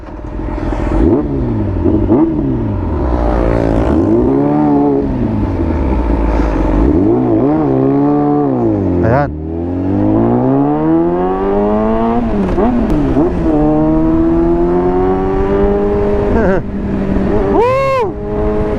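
Big bike motorcycle on a road test, its engine revving up and down in repeated loud sweeping pulls, close and continuous for the whole stretch, with occasional voices beneath the roar.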